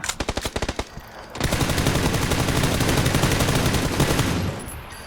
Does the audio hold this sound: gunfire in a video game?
yes